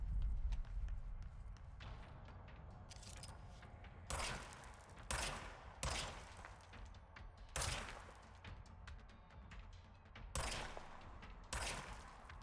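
Gunfire in the video game Control, heard as several loud bursts of rapid shots separated by short pauses over low game ambience.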